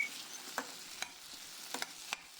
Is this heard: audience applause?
no